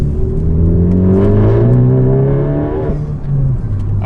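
A Ford Focus ST fitted with an aftermarket catback exhaust starts up and revs, its loud engine note rising and falling through several throttle blips close by, with no talking.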